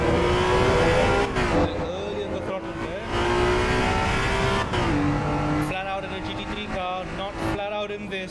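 Race car engine in Assetto Corsa EVO held at full throttle, a loud, sustained high-revving drone with shifts in pitch and brief lifts, while a voice talks over it.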